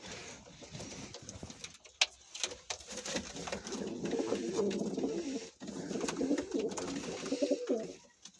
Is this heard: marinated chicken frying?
no